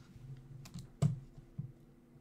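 Someone types a search on a computer keyboard, with a few soft, close keystrokes and clicks at an uneven pace in a quiet room.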